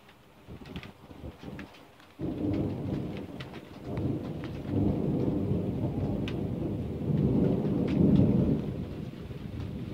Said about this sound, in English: Oh, it's starting to get heavy rain.